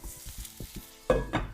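A dry, intermittent crackle builds into a loud burst of sizzling as daikon radish hits hot oil in a frying pan, close up, with no voices.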